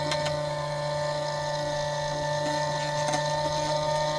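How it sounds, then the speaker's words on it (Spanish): A HERMEX DUP-410 key duplicating machine runs with a steady motor hum and whine while re-drilling the already-drilled holes of a TOV7 dimple key, light ticking and scraping flickering over the constant drone. "Damos una pequeña repasada a los agujeros ya perforados."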